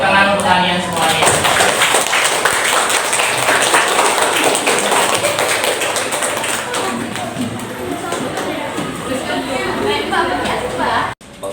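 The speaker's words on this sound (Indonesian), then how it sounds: "tepuk tangan untuk kalian semuanya" A group at a vocational school gathering claps together in a loud, continuous burst of hand clapping mixed with background chatter, running for about eleven seconds before cutting off abruptly.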